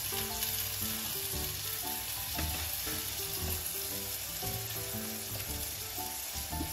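Crushed red chilli and spices frying in a pan for a brinjal and pea dish produce a continuous, even sizzle. A faint music-like tonal layer runs underneath it, and no one speaks.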